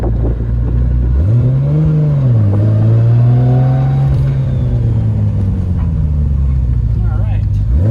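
Turbocharged engine of a Nissan R32 GTR revving hard and close, pitch climbing, dipping and holding high with quick spool response, a steady loud rumble throughout with people talking over it.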